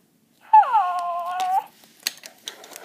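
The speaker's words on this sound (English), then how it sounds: "Be quiet, dog." A robot toy dog gives a single loud, wavering whimpering howl lasting about a second, followed by faint clicks and handling noises.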